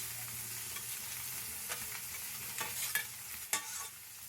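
Onions sizzle gently in a pan, frying until translucent, with a few scrapes and stirring clicks over the soft frying hiss.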